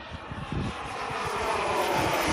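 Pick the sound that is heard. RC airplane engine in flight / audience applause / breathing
RC airplane engine in flight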